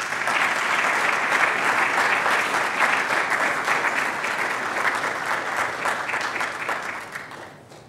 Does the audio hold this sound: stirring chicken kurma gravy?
no